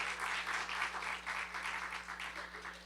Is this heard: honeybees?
no